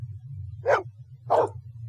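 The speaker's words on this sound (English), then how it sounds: "Who's the best dog in the whole world?" Two short barks from a dog named Maggie in the video game Blade Runner, spaced about half a second apart, heard over a steady low ambient hum with no talking.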